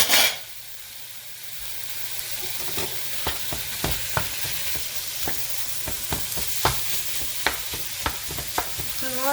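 Ground turkey sizzles steadily in a stock pot for chili, with a broad frying hiss and frequent sharp clicks and scrapes of a utensil stirring through the meat.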